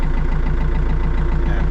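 A tractor fitted with a remote control system runs steadily at idle, a loud, even, low mechanical chug pulsing at a constant rate throughout with no talk.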